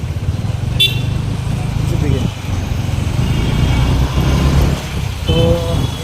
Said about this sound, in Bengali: আমাদের নিচে দিয়ে একটা হাইওয়ে চলছে